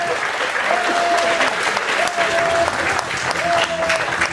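An audience claps loudly and steadily for several seconds, with brief whistle-like tones and voices faintly mixed in.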